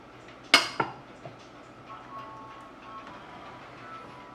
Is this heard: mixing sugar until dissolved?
yes